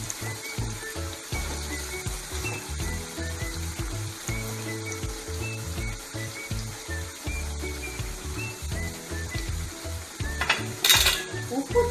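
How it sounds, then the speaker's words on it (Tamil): Potato chips frying in virgin coconut oil and being stirred in the pan, giving a steady sizzle with clinks and scrapes of a spoon, and a louder hiss near the end. "நல்லா ஈவனாக வேகிறதுக்காக கொஞ்சம் கிளறி விட்டுக்கோங்க."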